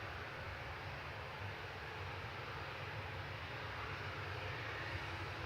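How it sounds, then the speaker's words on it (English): Airliners, including Jet2 and TUI 737s, on the runway at Manchester Airport produce a steady, distant engine roar and rumble that holds at a low, even level throughout. "so then we've got a few planes now at the runway"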